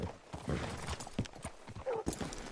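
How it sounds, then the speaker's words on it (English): Horse hooves clop in an uneven walking rhythm in a PS4 video game, close and fairly quiet, with a brief snort or whinny-like sound near the end. "Hitch your horse up here."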